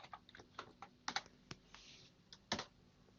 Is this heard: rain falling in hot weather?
no